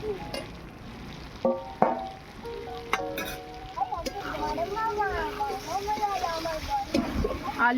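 Fried potato and eggplant pieces sizzle and are stirred into a cooked-down spice paste in a pan, with intermittent scraping and splattering under a musical, tonal backdrop.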